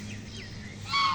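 Geese at a small goose farm in Mohakhali, Dhaka, give a few short nasal honks, with a louder honk near the end, heard close over a low steady hum.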